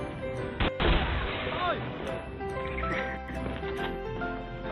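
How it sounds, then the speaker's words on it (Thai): A loud grenade explosion in a first-person shooter video game, heavy and booming amid gunfire and chaotic effects, with excited voices talking over it. "มันปาระเบิดมาว่ะ"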